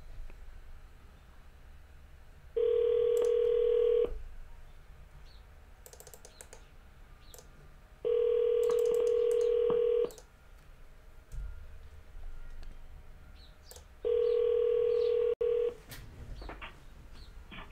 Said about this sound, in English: See if he answers the phone.